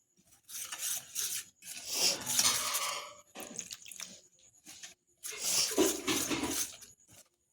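Coconut filling with salt and sugar being stirred and pressed into a paste, rough scraping and rubbing strokes in several separate bursts, close and clear with short gaps between them.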